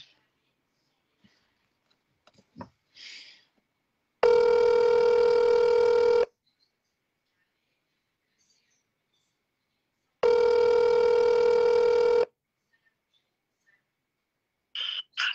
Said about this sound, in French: je coupe pour la rappeler